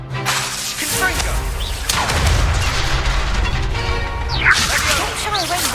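Confringo fire spell in Hogwarts Legacy, loud whooshing blasts and booming explosive impacts in quick succession during a game duel, with a voice calling out during the fight.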